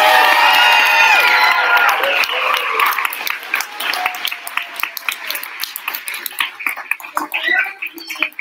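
A school senior showcase audience bursts into loud applause and cheering, with shouted whoops at first, then thinning into scattered, sharp individual claps toward the end.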